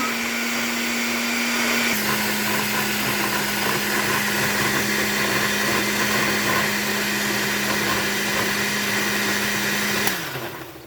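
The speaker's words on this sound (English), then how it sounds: "just blend everything." A blender runs continuously on gluten-free green pancake batter, a loud steady motor whine that shifts pitch slightly after two seconds and winds down near the end.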